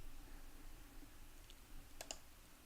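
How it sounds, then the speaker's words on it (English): A computer mouse right-clicks on a macOS machine, giving a quick double click, small and close, over a faint steady room hum with no talking. "I'm going to right click and copy."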